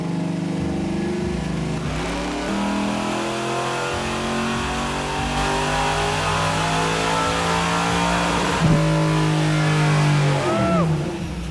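A drag racing car with a stock carbureted LS engine revs loudly up close, its pitch rising and falling through several throttle sweeps, with a sharp surge near the end at an underground street drag racing scene in Los Angeles.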